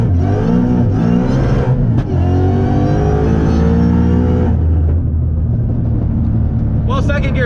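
A Ford Mustang with a fault that keeps second gear from engaging accelerates hard, its engine note climbing loud and steady for several seconds, then dropping off as the revs fall. A voice talks over it throughout.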